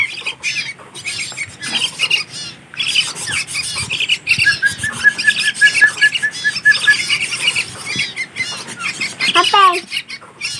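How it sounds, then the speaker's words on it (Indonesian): A young kekep (woodswallow) chick kept with other captive songbirds calls in a busy bird-keeping setting: dense, scratchy chirps and rasping calls with a brief run of rapid high notes, close and fairly loud. "Dan ini anakan kekep yang kita ambil satu ekor kemarin."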